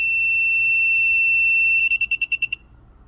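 A handheld bug and GPS tracker detector in GS mode gives a steady high-pitched electronic tone. The tone then breaks into about eight quick, evenly spaced beeps before stopping, clear and close with no talk.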